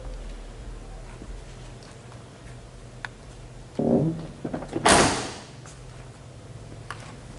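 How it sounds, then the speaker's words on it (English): Doors of a 1987 Chevrolet Blazer 4-wheel drive swinging and latching shut, with a couple of close, solid thuds and a sharp slam standing out over a quiet, steady background hum. "Doors open and close with ease."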